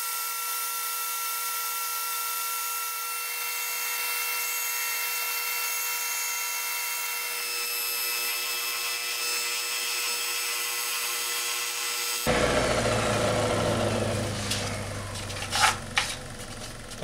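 A steady mechanical whir gives way to rougher, gritty scraping as a repaired fan part is sanded, with a few sharp bursts toward the end.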